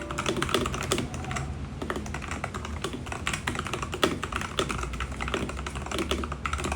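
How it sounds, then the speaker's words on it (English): Typing on a Hall effect magnetic-switch gaming keyboard with non-hot-swappable magnetic gold switches, a fast, continuous run of close, clacky keystrokes with no voices. "It sounds a bit clacky to me, but there's no rattle when shaken."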